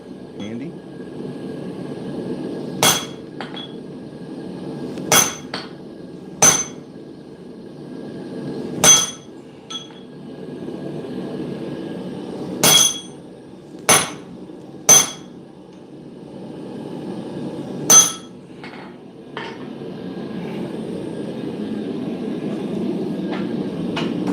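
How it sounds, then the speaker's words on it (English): Hammer blows on hot steel at a blacksmith's forge while making tongs, a dozen or so sharp ringing strikes in uneven bursts with pauses, close and loud over a steady low roar of the forge fire. "When in doubt, get a bigger hammer."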